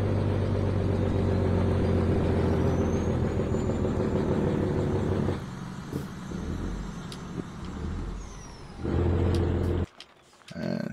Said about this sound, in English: Shut that noisy truck up.